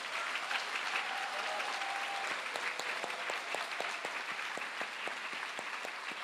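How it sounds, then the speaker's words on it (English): Applause at a compassion symposium in Chicago, faint and distant clapping from a crowd, with scattered sharper claps picking up in the second half. "can you give a big round of applause to the Swamijis and all the organizers of today's conference"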